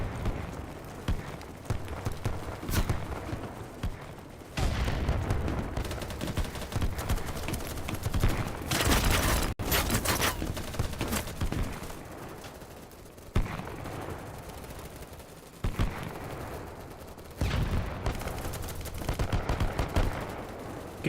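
Gunfire in a shooter video game, bursts of rapid shots and heavier blasts in clusters across the stretch, loud and close with short pauses in between.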